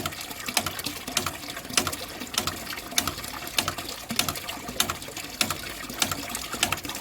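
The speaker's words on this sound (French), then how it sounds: "Et aussitôt, j'ai des bulles d'air qui rentrent." Air bubbles gurgling into water inside a pipe after a cap is removed, a rapid irregular series of bubbling pops and trickles, steady and fairly close, with no voices.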